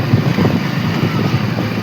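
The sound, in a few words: wind rushing past while riding a motorbike in mountains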